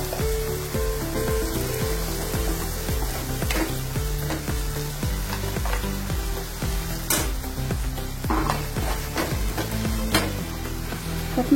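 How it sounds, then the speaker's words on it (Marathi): Ingredients sautéing in hot oil in a pan throw off a steady, close sizzle with stirring scrapes throughout, over a tonal background. "चांगलं तेल तिथं पण परतवायचं।"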